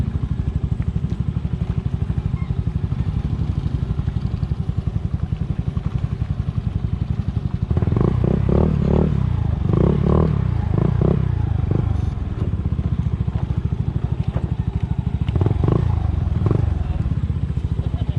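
A motorcycle engine runs steadily throughout, with rattling clatter and voices talking over it in the second half.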